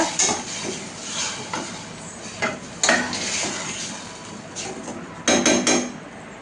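Metal utensil scraping and clinking against a pan in irregular bursts while stirring tomato rice over a steady sizzling hiss, with a cluster of sharper scrapes near the end.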